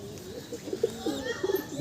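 Soft, low coos from Madrasi pigeons repeat in short bursts against quiet background noise, a few distinct calls spaced unevenly.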